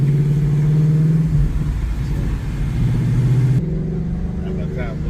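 The Dark Horse car's engine rumbles and revs close by, a deep idle swelling into throttle blips before the tone drops and shifts, with someone talking over it.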